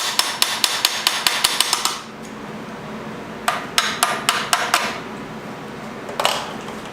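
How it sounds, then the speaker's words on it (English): Rapid hammer blows ring out in bursts during work on a budget turbo LS engine build, a quick run of sharp metallic strikes, a pause, then another volley of about eight hits and a final single knock, close and loud. "And then you can use the hammer."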